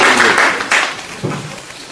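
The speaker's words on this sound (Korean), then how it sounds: "이분한테 박수 크게 한번 보내주세요." Audience clapping for a speaker at a Gangjeong village rally against a naval base: a short burst of broadband applause that swells and fades over about two seconds, with a fresh surge partway through.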